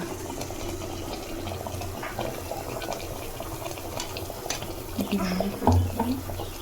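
Sugar syrup for gulab jamun boils in a pan nearby, with a steady, bubbling simmer and occasional louder pops and gurgles toward the end.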